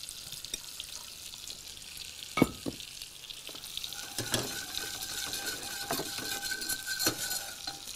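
A fish sauce base with white wine poured in sizzles in a pan, a constant frying hiss with stirring scrapes and several sharp utensil knocks against the pan, close and without talk.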